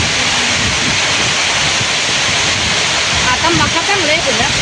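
Steady heavy rain pouring down outdoors near a rural home and cattle shed, a dense continuous loud hiss with a voice talking faintly under it.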